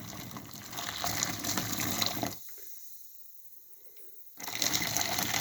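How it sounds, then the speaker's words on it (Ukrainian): About a liter of water pours from a container into a bowl as a steady splashing gush that stops midway, then resumes loudly, heard close with no talking. "Лию літру води."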